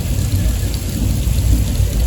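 Rain falls in Hollywood, Los Angeles as a dense, steady wash of noise with a low rumbling undertone, loud and unbroken throughout and without speech.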